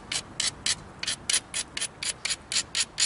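Flint point having its edges ground, with a rapid series of about a dozen short, bright scraping strokes in an even rhythm, close and fairly loud with no talking.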